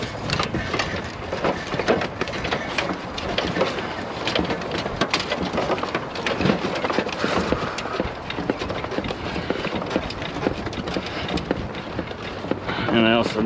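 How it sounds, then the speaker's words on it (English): Heavy rain pours steadily in an approaching thunderstorm near a dumpster, a dense, loud, continuous wash with deeper rumbles mixed in and no break from start to end. "And the storm is coming."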